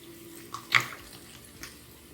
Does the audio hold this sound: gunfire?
no